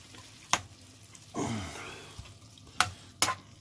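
Onions frying in a pan, a soft steady sizzle with a louder surge of sizzling partway through, broken by a few sharp clacks of a utensil against the pan.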